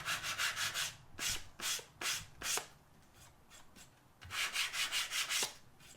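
Sandpaper rubbed by hand along a wooden edge to chamfer it, in clear bursts of quick back-and-forth scratchy strokes with brief pauses between sets, close and fairly soft.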